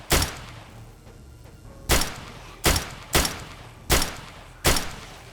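Six loud, close gunshots from a modded 7 Days to Die, fired at uneven intervals, each a sharp crack with a short decay.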